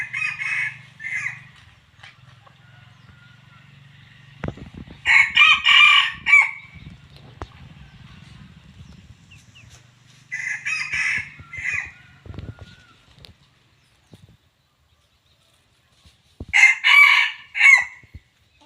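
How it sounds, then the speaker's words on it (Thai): A rooster with a junglefowl-like call crows four times in short, shrill bursts separated by quiet gaps, close by, with faint low rumbling underneath. "เสียงเหมือนไก่เถื่อนครับผม"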